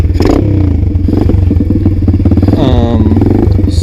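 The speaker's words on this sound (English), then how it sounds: "let's get the bike started." Apollo DBX-18 pit bike engine running loud and close, a steady low rumble with rattly clatter and a brief rev partway through.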